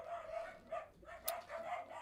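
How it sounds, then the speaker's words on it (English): Dogs barking inside a house, a few faint, scattered barks in quick succession, heard from a distance indoors with no speech over them. "as we do get interrupted by the dogs"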